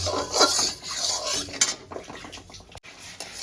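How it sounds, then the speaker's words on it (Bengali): Marinated chicken goes into hot butter in a karahi, with metal scraping and stirring clatter over a soft sizzle, brief sharp knocks near the end. "কড়াইটা গরম করে আমি বাটার দিয়ে দিয়েছি খুব বেশি গরম করা যাবে না তাহলে কালো হয়ে যাবে এবার আমি ম্যারিনেট করা চিকেনটা দিয়ে দেবো"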